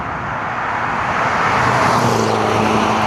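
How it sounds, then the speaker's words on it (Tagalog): Cars rushing past at around 90 km/h on the N44 road in Aalter, Belgium, a steady loud roar of traffic swelling as vehicles go by close at hand, heard from a bicycle at the roadside. "Pero tinan nyo yung mga sasakyan"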